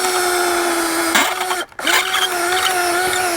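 A cordless power drill spins out the end cap screws of an RV awning, a loud, steady high whine close by that briefly stops and then starts again.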